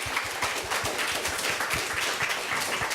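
A live audience at a disability-awareness talk show claps in a dense, steady burst for a speaker after his lecture, with many hands sounding together for a few seconds and no talk over it.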